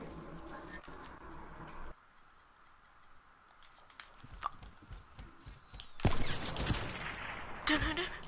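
Sniper rifle shots in a Call of Duty match, fired without scoping, ring out as a few sharp, separated cracks over low game ambience, with a louder burst of gunfire toward the end.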